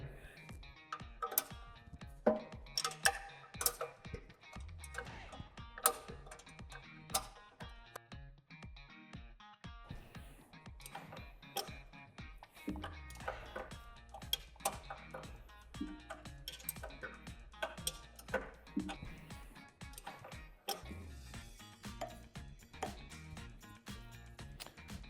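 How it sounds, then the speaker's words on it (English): Bolts come off the cover of a DK-800 bio wood chipper. Quiet metallic ticks, clicks and clinks from a wrench repeat in irregular bursts close by, with a brief low hum in the middle. "first what you need to do is undo the 4 bolts that hold it down onto the DK-800"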